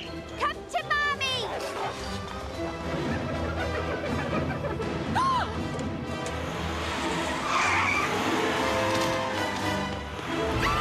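A car drives and skids in a Batman animated series scene, with engine noise and a brief tire squeal mixed under animated voices talking over a busy soundtrack.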